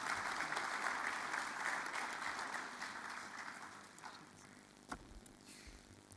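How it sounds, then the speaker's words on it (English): Audience applause at an Electoral Commission event welcoming the new chairperson, a steady round of clapping from a crowd that gradually fades, with a few last claps trailing off. "I'd ask you to give him a round of applause since he is our new chair."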